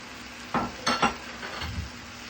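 Ham and turkey deli meat stirred in a hot pan, with a few short scraping bursts and a soft sizzle underneath, close and fairly quiet.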